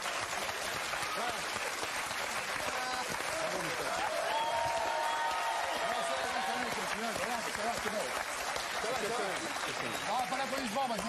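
Studio audience applause on the set of the Burger Quiz TV game show, a continuous loud clapping that fills the whole stretch while voices talk and laugh over it.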